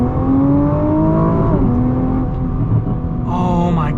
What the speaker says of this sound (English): we'll get one more acceleration here